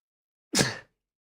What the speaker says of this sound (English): I'm going to have a sneeze attack now.